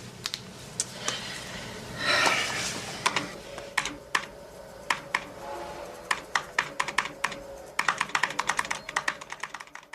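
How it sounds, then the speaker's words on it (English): Rapid keystrokes on a computer keyboard in a Star Trek scene, irregular bursts of close, crisp clicks that grow denser toward the end, over a faint room hum. "Just use the keyboard."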